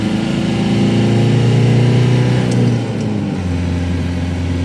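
A Dodge Dakota pickup fitted with a VW TDI ALH diesel engine pulls steadily in third gear, a loud continuous diesel drone heard from inside the cab that drops slightly in pitch partway through.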